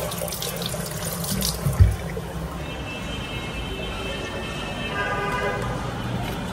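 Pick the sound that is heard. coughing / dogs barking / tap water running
tap water running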